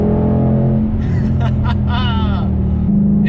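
A 2020 Ford Mustang GT500 with a 760 hp engine rumbles while driving, a loud, steady low drone throughout with a shift in pitch near the end, as a person talks over it.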